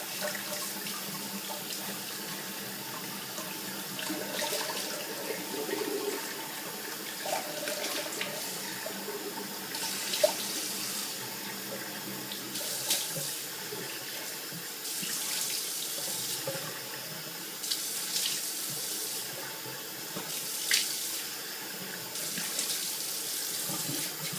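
Tap water runs steadily into a sink during rinsing after a traditional wet shave, a continuous close splashing with occasional brief louder splashes and no talk.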